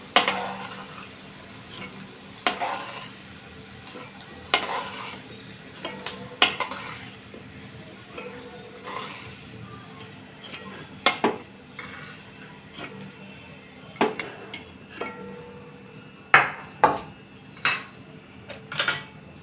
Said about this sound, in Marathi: शेंगदाणे तळून झालेत, शेंगदाणे काढून घेऊया